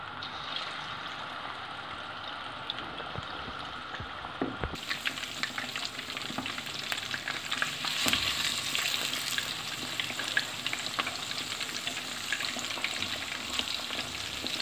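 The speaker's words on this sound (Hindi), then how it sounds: "अब फ़िश को ऑयल में डाल के अच्छी तरह से फ्राई कर लेते हैं।" Fish fries in oil with a steady crackling sizzle. It starts muffled and becomes brighter and louder after a sharp clatter partway through, then keeps a dense, popping texture to the end.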